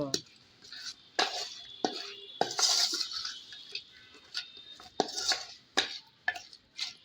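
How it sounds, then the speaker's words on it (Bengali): A spoon scrapes and clinks against a pot while mutton biryani is stirred with fried onions and oil, giving irregular close metallic knocks and scrapes, with someone talking in between. "পেঁয়াজ বেরেস্তা আর তেল দিয়ে আমি আবারও একটু নেড়ে চেড়ে ভালোভাবে মিশিয়ে নেব"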